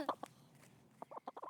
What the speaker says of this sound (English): Leah Schaefer is newer to backyard chickens. She has 4 hens